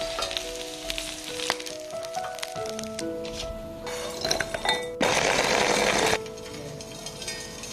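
Sheng jian buns pan-fry in a hot pan with a crackling sizzle, punctuated by clinks and tonal kitchen sounds, then a loud burst of hissing spatter for about a second before it eases back; no speech.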